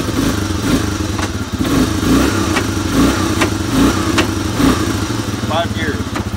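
An old barn-find Honda Big Red 250 three-wheeler, freshly started and warming up, runs in gear with a loud, lumpy idle that pulses rhythmically, while someone talks over it.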